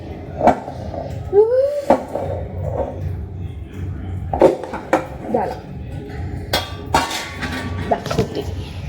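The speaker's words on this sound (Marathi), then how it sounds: "डब्बा ओपन करते जो ओपन होत नाहीये" A stuck kitchen container being pried open, with sharp metallic clanks, knocks and clinks scattered across the clip, close and fairly loud, set against quiet kitchen background noise.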